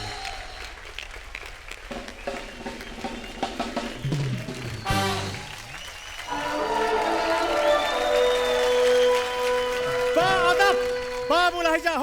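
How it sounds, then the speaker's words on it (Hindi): A studio audience at a comedy stage show applauds and cheers for the performers, with music swelling underneath and voices mixed in. "जोरदार तालियां हो जाएं"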